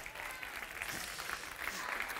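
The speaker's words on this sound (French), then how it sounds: "vous pouvez les applaudir tous les deux très très fort" Audience applause at a magic comedy show fills the clip as dense, even clapping from a crowd, steady and sustained without a break.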